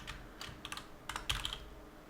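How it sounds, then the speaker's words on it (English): Typing on a computer keyboard: quiet, close, irregular clicks and taps of keys in quick bursts, heard alone without speech. "They do typing."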